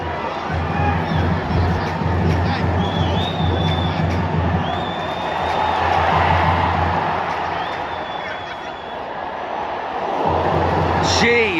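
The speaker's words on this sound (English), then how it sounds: "That's got the home crowd rocking." A home football crowd at a League One match between Bolton and Plymouth cheers and roars, a loud, swelling wall of voices with whoops and shouts that rises mid-way, with commentary over the top.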